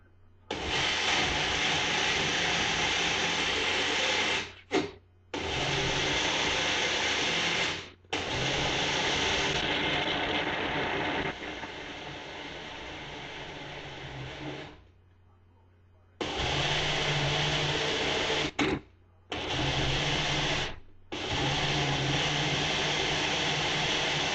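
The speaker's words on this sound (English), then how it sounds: "just blend this quite good so it's very fine" A blender purees hot peppers and other hot sauce ingredients into a fine pepper mash, running loud in several long bursts with brief stops and one quieter stretch between pulses.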